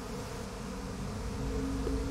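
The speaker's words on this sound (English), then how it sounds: "Want me to kill those bees?" Bees buzzing in Psychonauts 2, a steady, dense insect drone that holds throughout at moderate loudness, with no talking over it.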